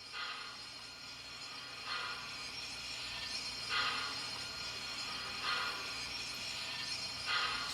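A startup sound from an MTH HO cab forward AC-6 steam locomotive model with Proto 3.0 sound: steady hissing and mechanical hum with soft rhythmic chuffing pulses about every two seconds, moderately quiet, and no talking.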